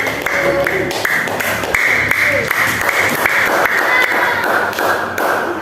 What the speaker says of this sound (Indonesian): Kita beri tepuk tangan untuk kelompok bahagia